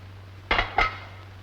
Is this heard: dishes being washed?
yes